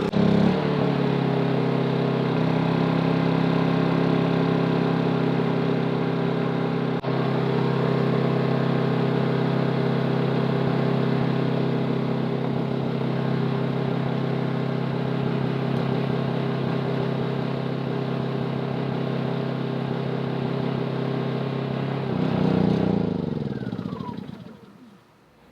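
A Honda 2200i inverter generator converted to run on propane hums steadily and loudly under load, its engine tone holding even for over twenty seconds before winding down at the end.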